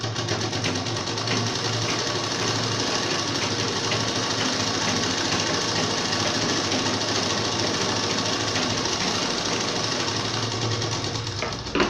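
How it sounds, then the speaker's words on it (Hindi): A sewing machine runs steadily and loudly, stitching along the edge of a women's trouser belt, a continuous fast mechanical whir with no pauses or voices. "आप चाहें तो इसमें एक सिलाई ऊपर भी लगा सकते हैं, किनारे पर सिंपल सिलाई लगानी होगी आपको।"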